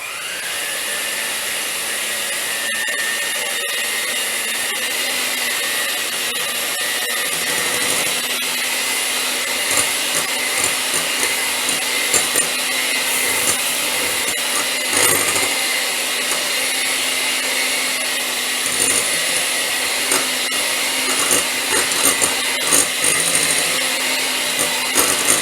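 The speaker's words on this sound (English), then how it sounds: "I'm going to go ahead and start beating this, my 6 egg whites" An electric mixer beats six egg whites with a loud, steady motorized whir that runs without a break and with no talking.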